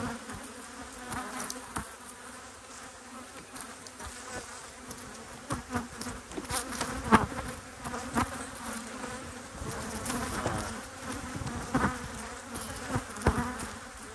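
Honeybees buzz steadily at an open hive in an outdoor apiary, a dense close drone with individual bees swelling louder as they pass near, and no talking.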